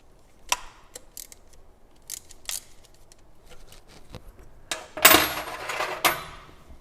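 Choke cable wire being cut to length for twin 45 Webers on a Volvo 145 with a B20 engine, heard as scattered sharp clicks and snips that end in a louder burst of snapping and rustling near the close.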